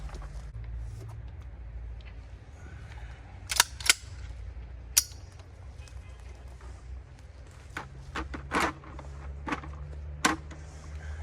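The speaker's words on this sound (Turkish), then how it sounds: "Şimdi Tayfon F12 ile atış videosuna geçelim" A Tayfun F12 shotgun fitted with a 30-round drum magazine fires several sharp, fairly distant reports, some in quick pairs, over a low outdoor rumble.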